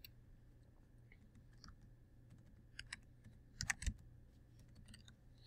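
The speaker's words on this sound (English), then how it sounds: "So we type in the angular frequency right here." Computer keyboard keys tapped at a desk during simulation software setup, a few soft, irregular clicks clustered together, fairly faint and with no voices.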